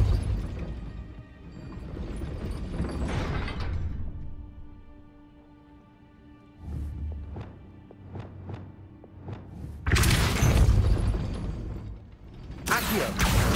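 Depulso force spell cast in Hogwarts Legacy on PC, heard as several sharp magical bursts and whooshing impacts. Quieter clicking pops come between them, and a loud crashing blast follows near the end.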